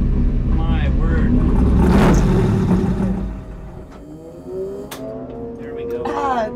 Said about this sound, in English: let me come out here and drive the Ruffian Mustang